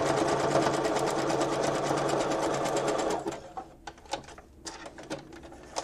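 Close, loud sewing machine running steadily as it stitches through fabric for Christmas cluster decorations, then stopping after about three seconds and leaving only light handling clicks and rustles.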